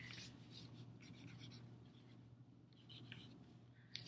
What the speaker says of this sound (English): the last thing I'm going to do is write my name on the back